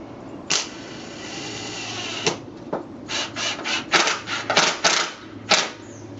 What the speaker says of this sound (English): so I'm using my little impact driver